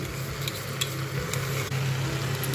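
Ground spice paste hitting hot oil in a pan while cooking a mixed winter vegetable dish without onion, giving a steady, even sizzle and hiss throughout, close and alone without talk.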